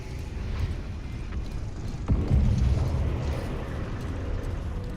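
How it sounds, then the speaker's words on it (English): Self-detonating robots explode in the Overwatch video game, one deep boom bursting out of a dense rumbling background of game noise and then fading back into the continuous din. "What are those explosions?"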